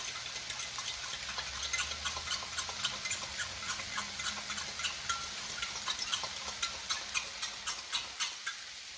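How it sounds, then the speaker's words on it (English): A fork stirs cornstarch into liquid in a bowl, giving quick regular clinking ticks that run close and steady and grow slightly sharper toward the end. "And I'm going to mix it with a fork until the cornstarch is dissolved."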